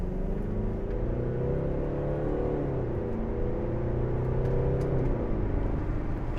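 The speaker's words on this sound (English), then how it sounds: "and then we'll give it some gas" A 2012 Mercedes-Benz SLK250 CDI roadster with its 2.1-litre diesel engine accelerates with the roof closed, a low droning engine note rising and falling as it pulls, steady and moderately loud in the cabin.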